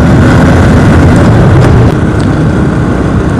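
A motorbike riding uphill toward Ayodhya Hills produces a loud, continuous engine drone buried in heavy wind rumble, with no clear separation between the two.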